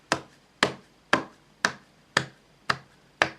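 Seven evenly spaced sharp claps, close and crisp, imitating Louis Walsh's clap in a slow steady rhythm with silence between.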